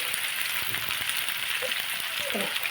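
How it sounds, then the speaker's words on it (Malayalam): Finely sliced onions sizzle in hot oil for beef chukka, a dense bright crackle with a few soft stirring knocks, close and steady with no talk. "തിളച്ച ഓയിലേക്ക് നൈസായി മുറിച്ച നമുക്ക് സവാള ഇട്ട് കൊടുത്തിട്ടുണ്ട്"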